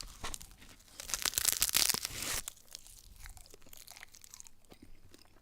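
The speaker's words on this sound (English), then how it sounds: "You guys hear that crunchiness?" Close, crisp crunching as something brittle is chewed, a burst of loud bites followed by softer, quieter chewing.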